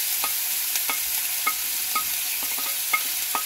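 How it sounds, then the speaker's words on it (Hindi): Chopped onions frying over medium flame in a pan for egg curry, giving a steady close sizzle with repeated light clicks and scrapes of stirring at a fairly regular rhythm, no voices. "इसे हम मीडियम फ्लेम पे फ्राई करेंगे"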